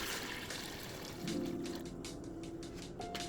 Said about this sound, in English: Start by adding 4 liters of water to a pot.